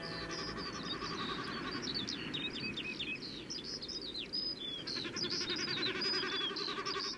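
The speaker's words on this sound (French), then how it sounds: "Ce paradis pour les oiseaux marins qui viennent par milliers s'y reproduire" A colony of breeding seabirds on the rocky coast of Shetland, off northern Scotland. Many overlapping high chirps and calls keep going throughout over a steady rushing background of surf or wind.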